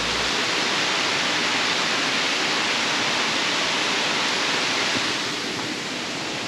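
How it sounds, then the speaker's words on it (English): Waterfall in Glen Lyn Gorge at Lynmouth, a steady, dense roar of falling water close by that fills the whole clip without a break, easing slightly in level toward the end, with no voices. "The waterfall up there"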